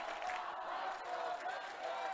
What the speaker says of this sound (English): on their feet, getting loud, cheering their side on